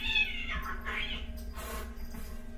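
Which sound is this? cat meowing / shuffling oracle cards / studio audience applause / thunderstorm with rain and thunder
cat meowing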